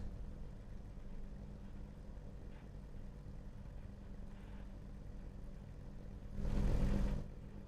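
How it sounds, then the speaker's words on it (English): A VW Jetta race car in a racing video game at Willow Springs revs once, a loud, short burst near the end that rises over a steady low engine hum. "And now we wait for the engine revs then."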